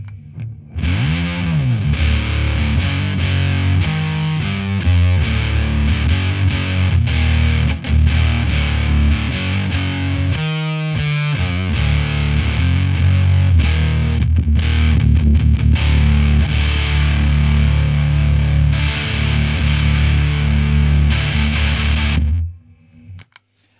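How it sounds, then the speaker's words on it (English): An electric guitar through a Way Huge Swollen Pickle Mk2 fuzz pedal plays loud, thick, saturated chords and riffs for a long stretch before cutting off abruptly. "Okay, so it's a fuzz pedal."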